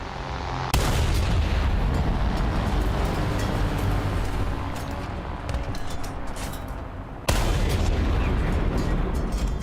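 An artillery barrage in the War Thunder combat game: a loud, sustained roar of heavy gunfire that begins with a sharp blast and renews with a second abrupt boom near the end, no speech.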